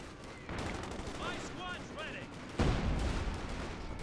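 Battle din from Company of Heroes 2 with gunfire rattling and artillery landing in a 4v4 match on a forest map, crackling shots then a heavier thudding impact midway, with faint talk underneath.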